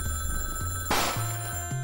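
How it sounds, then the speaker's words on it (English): A telephone rings in the Hot Tin Roof video game, an electronic bell tone pulsing in short repeated bursts, fairly loud and alone, with a brief noisy thump partway through. "the phone is ringing"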